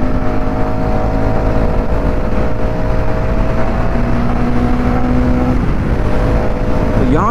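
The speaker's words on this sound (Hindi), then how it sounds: "अभी हम थोड़ी स्पीड टेस्ट करते हैं बाइक की।" A Hero Karizma XMR motorcycle is ridden at speed in high gear, its engine droning loud and close under heavy wind rush, with a tone that stays steady before shifting near the end.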